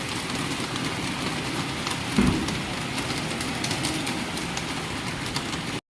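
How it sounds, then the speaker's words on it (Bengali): Rain falling outside a building near a shed, a soft, steady hiss throughout with one brief low thump partway through, faint and fairly distant. "তো দেখো বৃষ্টি হচ্ছে"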